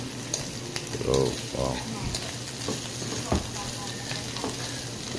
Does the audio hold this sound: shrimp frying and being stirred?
yes